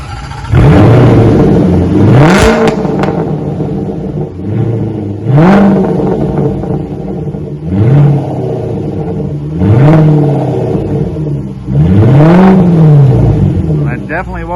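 A 2017 Range Rover with the 5.0 supercharged engine and its rear mufflers deleted starts up close by, then revs hard in five loud, rising and falling bursts with a deep rumbling idle between them, a voice briefly under the engine.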